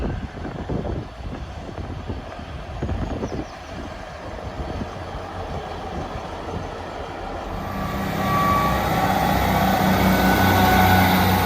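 A Class 158 diesel train pulls away on the Leeds service at Brough. The engine drone swells steadily in the last few seconds as it departs, heard from the platform.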